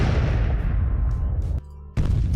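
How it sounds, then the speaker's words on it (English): Continuous heavy rumbling blasts of explosions in a video game, loud and dense, briefly cutting out near the end before resuming at full force. "Explosions everywhere."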